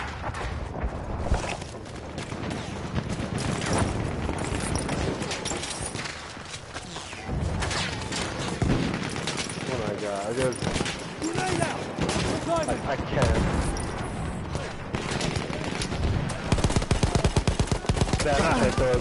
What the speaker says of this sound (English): Damn it, they started the machine gun.